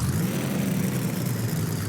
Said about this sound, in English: He is revving the engine up right next to us